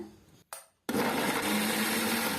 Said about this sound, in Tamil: சேர்த்து அரைச்சிருங்க